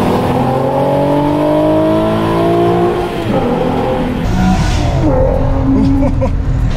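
Nissan 370Z on a race track during a trackday, engine revving and pulling hard through the gears with shifts and a brief tire squeal, loud and close from inside the car, with a voice talking over it.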